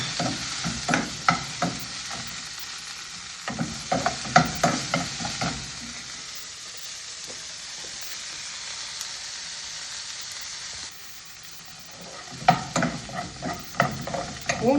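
Garlic and shallots stir-fry in a pan for beetroot chutney, bursts of sizzling broken by scraping spoon strokes, with quieter stretches of soft frying in between.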